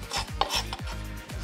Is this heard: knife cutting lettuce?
yes